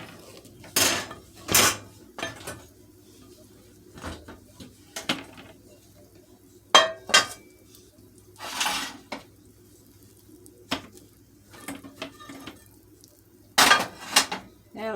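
Homemade bread knocked and flipped out of its metal baking pan, heard as several sharp, close clanks and thuds spaced irregularly across a quiet kitchen background.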